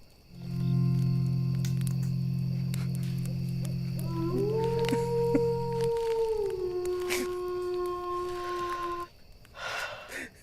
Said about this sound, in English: now you use the wolf howl